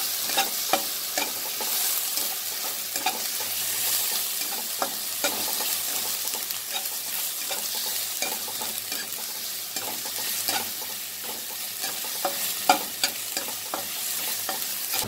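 Ginger paste with garlic and spices frying in a pan for a Bengali potol korma, a continuous close sizzle with frequent scraping stirs and clinks of the spatula throughout, no voices.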